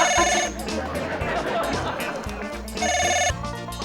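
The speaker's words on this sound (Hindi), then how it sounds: "ओहो भाई, फोन तो सुनो किसका है।" A telephone rings in two bursts, at the start and again near the end, over busy background chatter and voices.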